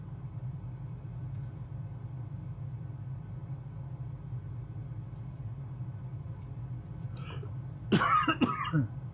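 A person coughs in a short cluster of two or three close, sharp coughs near the end, over a steady low engine drone.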